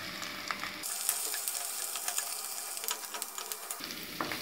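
Chopped beans, carrot and green peas sauté in ghee with already-softened onion, giving a steady close crackling sizzle that runs alone for a few seconds.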